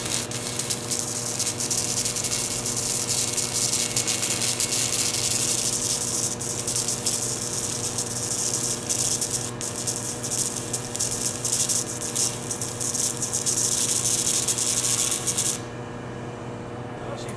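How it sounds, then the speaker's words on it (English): Handheld inverter stick welder arc welding at around 40 amps, a steady loud crackling hiss held for about fifteen seconds over a constant electrical hum, then cutting off. "As far as a welder goes, it's definitely working."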